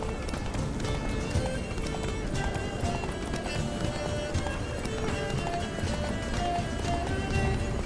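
Horse galloping in The Witcher 3, rapid rhythmic hoofbeats pounding steadily throughout, close and loud, with a voice speaking over the gallop.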